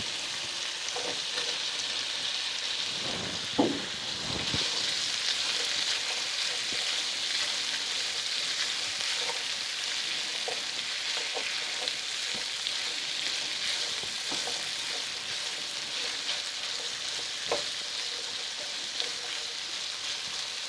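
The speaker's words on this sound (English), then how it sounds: "I'm going to be cooking this until the onion comes translucent." Onion frying in a pan for Cajun green beans with sausage and potatoes, a continuous close sizzle with occasional soft clicks of stirring, no talking.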